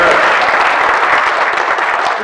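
Steady applause from an awards-ceremony audience cheering the winners, dense and loud, filling the full stretch without a break.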